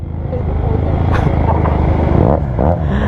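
A QJ Motor SRK 400 twin-cylinder motorcycle engine rumbles close by at a group ride, a steady low throb under voices talking nearby.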